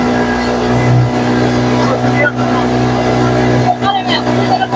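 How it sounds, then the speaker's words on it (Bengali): Speed boat motor droning steadily on a river by the hills of Jharkhand, heard from a seat at the very front of the boat, loud and continuous with wind and water noise. "স্পিড বোট খুব সুন্দর ভাবে চলছে।"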